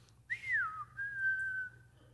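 A single human whistle imitated by a voice, a rising note sliding down then a long steady tone, clear and alone over faint low background hum.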